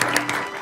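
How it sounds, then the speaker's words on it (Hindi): A short burst of studio applause for Doctor Sneha on a radio programme, dense clapping that quickly fades out. "डॉक्टर स्नेहा के लिए, तालियां।"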